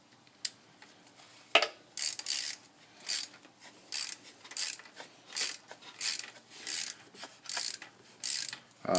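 Socket ratchet being cranked on a 2006 Ford Crown Victoria Police Interceptor, a steady series of close, crisp clicking bursts in a regular rhythm, heard alone without talk.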